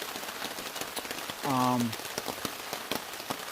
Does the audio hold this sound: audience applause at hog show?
no